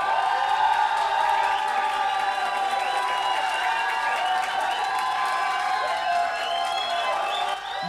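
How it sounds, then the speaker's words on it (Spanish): Audience clapping and cheering for a contestant on a Latin American talent show stage, a dense continuous wash of applause with crowd whoops, steady and loud throughout before easing at the very end. "Y aplausos para Darwin Lucín."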